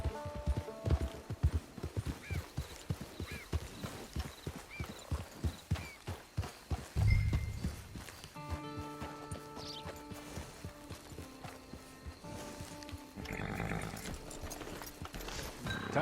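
Hooves of a horse in Red Dead Redemption 2 clip-clop in a steady rhythm, loud and close, with a brief whinny partway through and mechanical clicks and game ambience after the steps stop.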